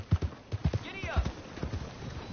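Horse hooves clip-clopping in a steady rhythmic gait in the Red Dead Redemption 2 video game, close and clear, with a brief neigh and a voice speaking over the hoofbeats.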